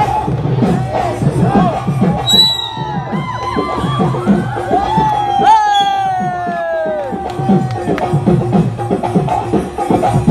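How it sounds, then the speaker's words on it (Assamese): A lively crowd cheers and whoops loudly nearby, with excited shouts and overlapping voices rising together. "এটা হাত চাপৰি সকলোৱে লাগে"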